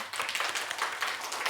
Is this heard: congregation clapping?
yes